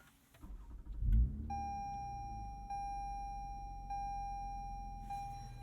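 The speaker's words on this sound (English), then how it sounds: "Little deep rumble with the catback exhaust system." A Toyota Camry TRD with a catback exhaust starts up, a quick crank and burst settling into a steady deep idle rumble, close and alone.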